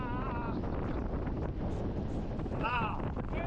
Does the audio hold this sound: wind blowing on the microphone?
yes